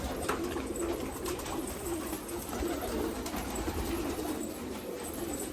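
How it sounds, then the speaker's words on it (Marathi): Hyderabadi gola pigeons coo in a loft, giving a dense, continuous low murmur of overlapping calls, close and steady, with no voices present. "हैदराबादी गोले कबूतर"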